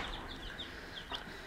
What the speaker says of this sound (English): So this is one of my favorite chickens.